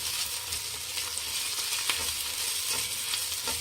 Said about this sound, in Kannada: ಇದು ಚೆನ್ನಾಗಿ ಹಸಿ ವಾಸನೆ ಹೋಗೋವರೆಗೂ ಹುರ್ಕೊಬೇಕು ಫ್ರೆಂಡ್ಸ್